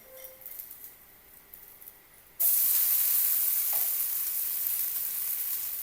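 A rice flour ghavan crepe sizzles loudly and steadily on a hot pan after being flipped, following a quieter stretch, with one brief clink partway through.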